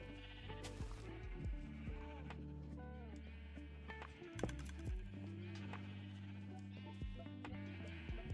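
Sheep bleat repeatedly on a sheep farm in a video game, the calls layered over steady game music, with occasional hoof clip-clops mixed in.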